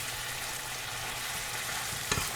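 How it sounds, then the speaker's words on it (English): Chicken browning in a pan before going into canning jars, a steady, even sizzle with a brief stirring scrape just before the end. "I'm going to go ahead and let this get browned off"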